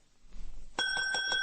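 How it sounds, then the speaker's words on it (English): A bell on a shop counter gives a single bright ring in a radio drama scene, following a faint rustle and then lingering clearly in a quiet room. "There was a bell on the counter."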